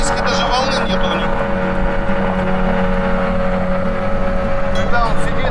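A Yolva 6 boat from Vodolet, a PND-hull airboat carrying a 120 kg person, runs steadily across the water with a loud, continuous engine drone and hiss close by, the sound holding level throughout.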